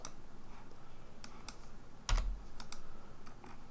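Keys tapped on a computer keyboard, a handful of light, sharp clicks spaced irregularly, with one firmer keystroke near the middle, close up in a quiet room without voices.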